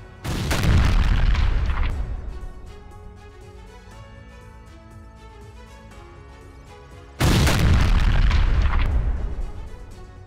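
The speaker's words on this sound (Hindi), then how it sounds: "दक्षिण लेबनान में इजरायली एयर स्ट्राइक हुई है।" Two heavy, rumbling explosions from an Israeli air strike in southern Lebanon, each a loud sustained blast that slowly fades, separated by several seconds of lower background noise, with no voices.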